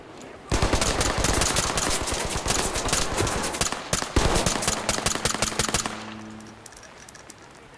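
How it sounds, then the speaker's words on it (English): Rapid bursts of automatic gunfire and single shots from a police tactical shooter game, loud and dense for several seconds before trailing off into scattered pops. "Shoot her outside again."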